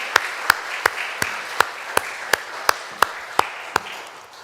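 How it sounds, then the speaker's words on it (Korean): Sunday church congregation applauding the choir, accompanist and conductor: about a dozen evenly spaced claps in unison over light background clapping that fades slightly toward the end. "우리 박수로 격려하면 참 좋겠습니다."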